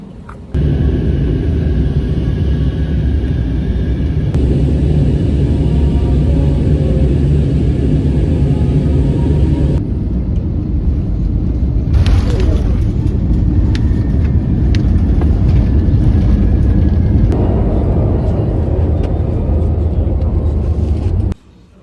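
A large airplane's engines roar in a steady, loud, continuous rumble that fills the whole stretch, with only slight shifts in tone throughout.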